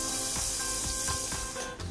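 Shallots sizzle in melting Fruit d'Or ProActive margarine in a saucepan, a continuous bright hiss with soft rhythmic scraping from stirring, close and steady, no voices.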